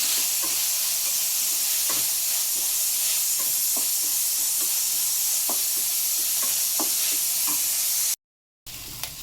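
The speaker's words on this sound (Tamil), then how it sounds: "வெங்காயம், கேப்சிகம் ரெண்டுமே போடுங்க. ஃப்ரெண்ட்ஸ் இது ரெண்டுமே நல்லா வதக்கிக்கோங்க." Onions and capsicum sizzle in a hot pan with a steady loud hiss, broken by regular scrapes and clinks of stirring, then a brief cut to silence near the end.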